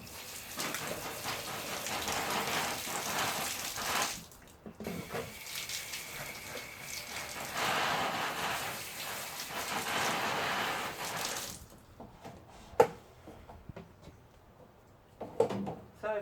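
A garden hose sprays water outdoors, a steady close hiss and patter that briefly drops out and resumes before stopping, followed by a few scattered drips and knocks, with no talking.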